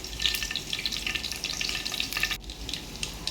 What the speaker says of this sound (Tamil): அதுக்கு தேவையான எண்ணெய் ஊற்றிக்கலாம் கொஞ்சோண்டு கடுகு சோம்பு கொஞ்சம்